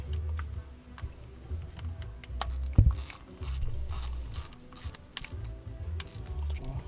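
A ratchet clicks in quick, uneven bursts while 10mm thermostat housing bolts are tightened by hand on a 2005 BMW X5 E53, close up under a low engine-bay rumble.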